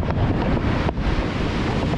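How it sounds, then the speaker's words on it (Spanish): Strong winter storm wind buffets the microphone on a beach, roaring steadily and loudly over crashing surf and waves, with no voices. "Ahí tenemos otra tormenta."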